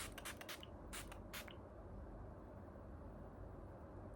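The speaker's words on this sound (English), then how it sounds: "we are coming to our last step, which is the setting spray." Several quick hissing spritzes from a spray bottle, in two short bursts, close by over a low steady background hum.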